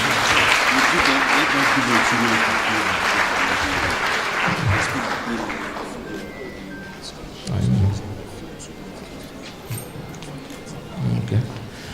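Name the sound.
applause for the graduates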